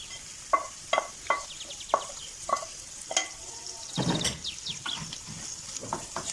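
Minced meat frying with wilted onion in a pan, a steady crackling sizzle broken by repeated sharp scrapes and taps of a spoon, close by and without any voices.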